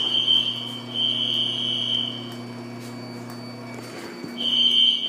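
A house fire alarm sounds during a system test, giving loud, steady electronic tone bursts that stop for about two seconds and then resume, over a low background hum.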